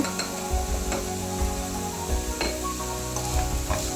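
Leftover idiyappam with tomato and salt being stirred and fried in ghee, with a close, crackling sizzle and repeated scrapes and taps of the spatula against the pan.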